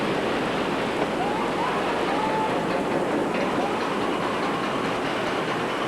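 Freight trains move through a rail yard with a continuous, loud, broadband rumble and rolling roar that holds steady the whole time, without distinct voices.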